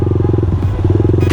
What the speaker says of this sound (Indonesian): knalpot kita aja ribut